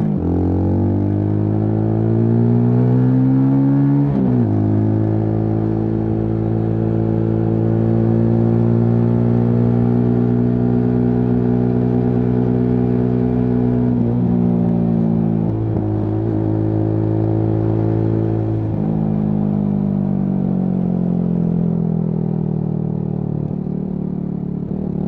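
A Benelli Leoncino 250 motorcycle engine revs close by, its pitch climbing and dropping through several rises and falls into high revs, loud and continuous without voices.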